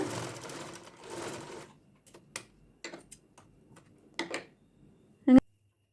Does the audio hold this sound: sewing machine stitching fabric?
yes